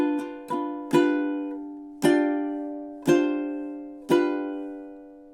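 Ukulele strummed in the triplet pattern of the Hawaiian song Loke Lani: six bright chord strums, each ringing out and fading before the next, in a steady slow rhythm, close and clear with no talk.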